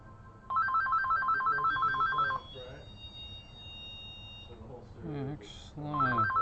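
A telephone rings during a call: a loud electronic ringtone warbles in a repeating pattern for about two seconds, stops while a voice speaks, then starts again at the end.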